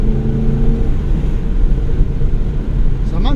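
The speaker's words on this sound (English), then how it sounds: "definitely do hear the exhaust. I was trying to get it crackling on overrun." A 2016 Holden Commodore VFII SS-V is driven in third gear at around 3000 rpm. Its engine and exhaust give a steady, close, low rumbling drone throughout.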